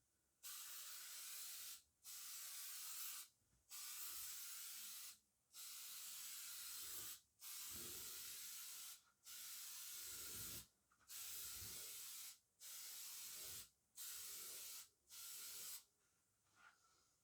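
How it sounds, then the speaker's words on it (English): A Meguiar's headlight restoration kit aerosol sprays in a fan pattern onto a Toyota iQ headlight, a loud close hiss repeated in about ten steady bursts of one to two seconds, separated by short pauses and heard without talk. "Right, so it sprays in a nice sort of fan pattern."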